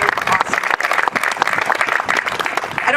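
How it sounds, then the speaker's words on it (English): A crowd applauding at a food share mobile pantry launch, steady dense clapping that holds at full strength across the short stretch, close and lively with no break. "Let's just once again give a round of applause to everybody that's been engaged in this."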